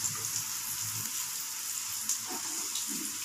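Bacon frying and being stirred in a pan for spaghetti carbonara, a steady bright sizzle with occasional soft scraping stirs, close and continuous with no voices.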